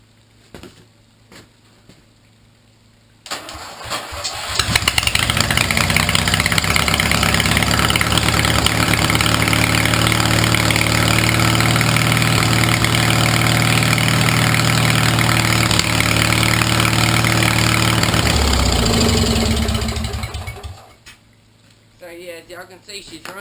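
A Murray engine with a fuel leak and its wiring unhooked cranks and fires right away, then runs loud and steady for about fifteen seconds before being choked off into quiet.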